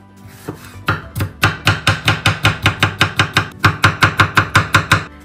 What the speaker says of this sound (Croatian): I sad ćemo znači i paprike da isitnimo